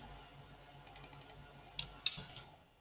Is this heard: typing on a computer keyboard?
yes